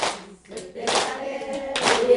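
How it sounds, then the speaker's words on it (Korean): An audience at a Korean Buddhist dharma talk claps in short, dense bursts of applause at moderate volume, with a brief pause between them. "박수 한번 주세요."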